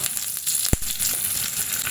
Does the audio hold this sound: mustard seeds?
yes